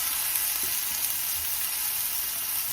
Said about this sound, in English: So my pan is sizzling hot.